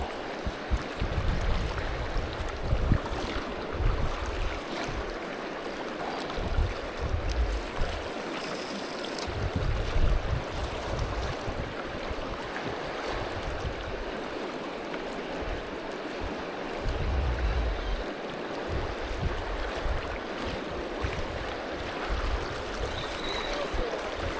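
Continuous rushing, swirling river water flows close by in a deep channel, a steady churning wash with low gusty rumbles and no voices.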